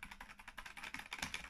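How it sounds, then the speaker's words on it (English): Fast, light clacking of keys on a Sinclair ZX Spectrum +3 home computer keyboard, a quick run of thin, cheap-sounding plastic taps in close, quiet succession. "And the keyboard, yeah, they're not bad, but you hear that they're very kind of cheap."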